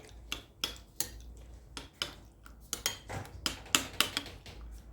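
Spoon scooping crème fraîche from a dish while making a Tahitian tuna salad, giving a run of close, sharp metallic clinks and scrapes of cutlery against dishes, irregular and steady, with no talking.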